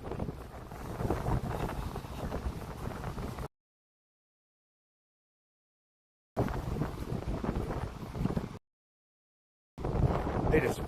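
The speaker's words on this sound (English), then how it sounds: "It is really windy out here." Strong wind buffets the microphone at a beach in loud, rumbling gusts, broken by two stretches of silence, with no talk.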